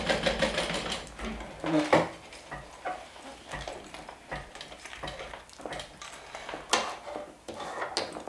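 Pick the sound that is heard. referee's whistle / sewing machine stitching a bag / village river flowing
sewing machine stitching a bag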